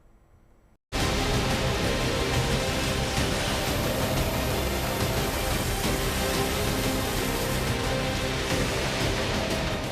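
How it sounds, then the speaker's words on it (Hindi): Pre-monsoon rain falls steadily in Washim, Maharashtra, a dense loud hiss of downpour that starts abruptly after a short quiet moment and continues unbroken to the end. "तस्वीरें महाराष्ट्र के वाशिम की हैं, जहां प्री मानसून की बारिश ने सब कुछ भिगो दिया।"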